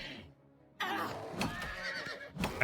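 A horse in the video game Oblivion gives a loud, close whinny that rises and wavers over a couple of seconds, with a brief shrill peak at the end.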